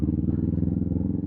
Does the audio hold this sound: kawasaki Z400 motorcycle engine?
yes